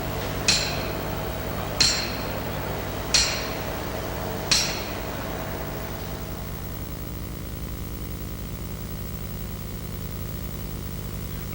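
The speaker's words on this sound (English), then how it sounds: "And tightened with a hammering spanner." A hammering spanner tightens a castle nut, giving four sharp metallic strikes spaced about a second and a half apart over a steady mechanical hum, then only the hum continues.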